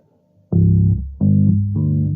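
A 30-scale bass tuned C G D G sounds a couple of low, full notes, one sustained then another struck and held, close and fairly loud with nothing else underneath.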